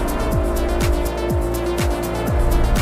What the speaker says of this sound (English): here is the lubrication oil pump of the main engine that I just started